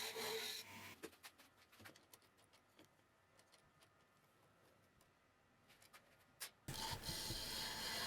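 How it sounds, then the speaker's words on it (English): A spindle gouge cuts a wooden spindle on a lathe, giving a rasping, scraping hiss with a burst at the start and end and quieter ticking contacts between, close and faint overall. "Here you can see I've moved on to a spindle gouge. This is what I'll use to fine tune the size of the spindle."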